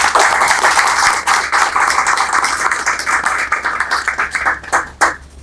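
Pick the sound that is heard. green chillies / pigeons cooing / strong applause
strong applause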